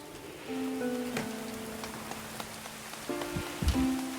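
Rain falls steadily in the medieval colony-building game Going Medieval, a soft continuous patter beneath sustained musical tones, with a few brief louder thumps near the end and no talking.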